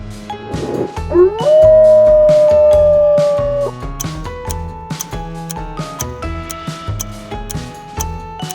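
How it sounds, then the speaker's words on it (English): A single long, rising then steady wolf howl, loud and clear over a looping musical backing with rhythmic beats in a quiz setting. "Wolf."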